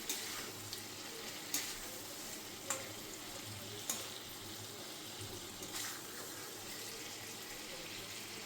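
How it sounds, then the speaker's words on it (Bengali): Fried potatoes go into hot oil in a pan for aloo dum, giving a steady soft sizzle with a few sharp clinks of utensil on the pan. "এই দেখো ভাজা আলুগুলো এর মধ্যে দিয়ে দেবো।"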